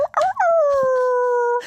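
A voice imitates a werewolf howling at the moon: a sustained, rising then steady wail of about a second and a half, loud and close, preceded by brief vocal yips.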